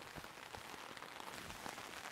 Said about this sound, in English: this is keeping quite a bit of rain off, not all